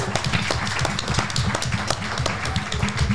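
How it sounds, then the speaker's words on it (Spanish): A Spanish-language podcast audience claps and applauds in a steady, moderately loud patter of hand claps, with a low murmur of voices running underneath. "Un aplauso para ustedes."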